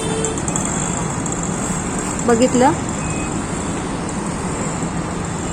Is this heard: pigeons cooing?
no